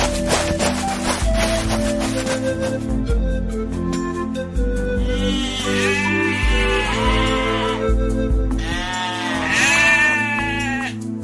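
Sheep bleating repeatedly with wavering, tremulous calls over a dense bed of background music, loud and close, with the bleats clustering in the second half.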